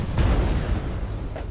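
Explosion in the MechWarrior Online video game during a Community Warfare match, a deep booming blast with a low rumbling tail that fades over about a second, heard alone without talk.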